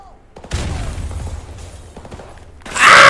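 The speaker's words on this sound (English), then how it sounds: "Ah! Grenade!" A grenade blast in a Call of Duty campaign lands near the end, loud and close, coming after a chaotic stretch of scattered gunfire and clatter. A voice shouts over the action.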